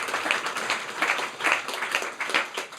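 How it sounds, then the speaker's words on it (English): An audience at a spiritual music gathering breaks into steady applause, a dense, moderate wash of hand claps lasting a few seconds with no voices. "Give him a big round of applause."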